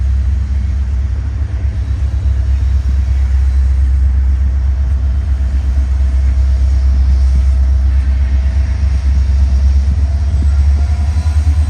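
A BNSF freight train rolls past on the railway as a steady, loud, close rumble of heavy cars that holds constant the whole time, with no voices.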